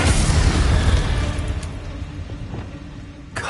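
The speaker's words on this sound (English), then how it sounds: "Incendio!" An Incendio fire spell in Hogwarts Legacy goes off as a loud, dense burst of flame with a heavy rumbling boom that slowly tails off over a few seconds, ending with a sharp crackle.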